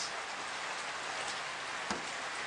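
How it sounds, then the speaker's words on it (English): Rain falls steadily during a safari drive at Djuma Game Reserve, making a continuous close hiss of drops on surfaces, with one brief louder tap near the end. "the rain was subsiding, but now it has just increased a little bit"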